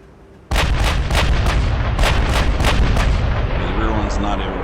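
USS Iowa battleship main guns fire in the naval combat game Ultimate Admiral: Dreadnoughts, a sudden loud barrage of rapid booming salvos in quick succession that then fades into distant rumbling and faint crackles.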